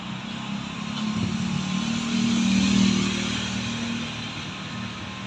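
Street traffic near the corner of Sheridan in the Greenfield area, a steady wash of road noise with one vehicle's engine swelling closer and louder in the middle before fading back.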